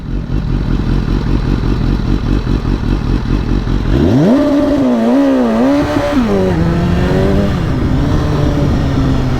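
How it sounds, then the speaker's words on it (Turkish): A car launches hard with traction control switched off, its engine first held at a steady rev, then surging upward through a loud, close rising roar with gear-like steps and a brief dip before climbing again. "size bir launch kontrol testi yapacağım şimdi"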